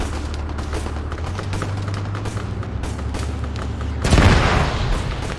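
Gunfire from the Arma 3 game rattles in sharp, repeated cracks over a low rumbling engine, and then a loud heavy boom lands near the end, likely the tank firing.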